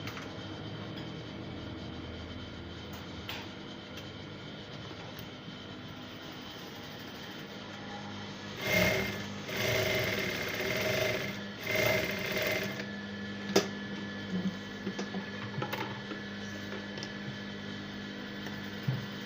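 A sewing machine stitches a short pant, a steady mechanical hum running throughout with louder bursts of rapid stitching in the middle and a few sharp clicks toward the end.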